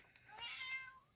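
A kitten meows indoors in a single drawn-out, rising and falling cry lasting about a second, close and fairly loud in a quiet room.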